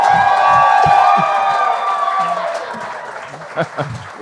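A comedy talent show audience keeps up applause and cheering that thins toward the end, with whoops and shouts coming through and a voice starting to speak over the fading clapping.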